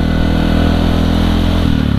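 A Yamaha WR155R motorcycle engine, fitted with a standard size-51 gear, runs steadily and loud close by at midnight, a buzzing single-cylinder drone that shifts slightly near the end, with no talk over it.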